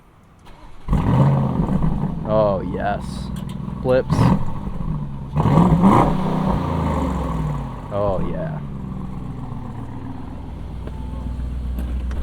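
A 2022 Audi SQ7 in sport mode starts up with a sharp crank and engine flare, then several throttle blips rise and fall before settling into an idle. Nearby voices react briefly over the engine.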